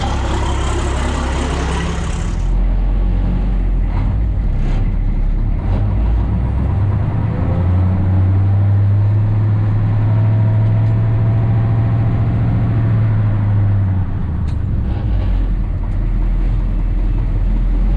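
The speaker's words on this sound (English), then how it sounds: "T466 fires right up." A DT466 diesel truck engine cranks, then fires up and settles into a loud, steady low idle rumble that swells midway, heard close up with no speech.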